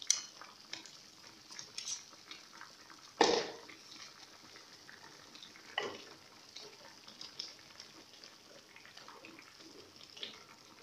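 Meat sizzling quietly with saffron, coriander and spices in a tagine pot, soft steady frying crackle broken by a few scraping stirs of a utensil against the pot.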